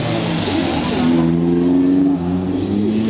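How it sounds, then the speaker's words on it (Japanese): A classic Osca MP4 1100 rally car's engine roars loudly and close as it launches from the start of a stage, revving up with a rising, steady drone. "豪快なエンジンを立てて今スタートを切ります。"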